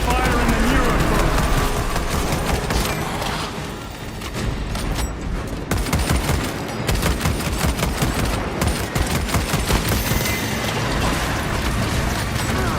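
Heavy automatic gunfire and booming blasts from Warhammer 40k: Space Marine 2 as squads concentrate fire on a Neurothrope boss, loud and nearly unbroken, with voices talking over the battle.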